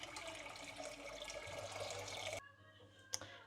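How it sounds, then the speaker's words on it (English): Boiling water runs steadily into a pot for a couple of seconds, a continuous splashing pour that stops abruptly, followed by a faint clink. "I'm just going to add some boiling water to my pot for my rice"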